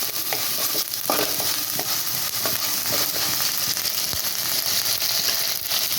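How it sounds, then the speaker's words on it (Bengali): Ginger-garlic paste stir-fries in a hot pan, a steady close sizzle broken by scraping and tapping from a spoon being stirred through it, with no talking. "এবার আমি দিয়ে দেব আদা রসুন বাটা 1 চামচ, দিয়ে এটা ভালো করে কষিয়ে নেব।"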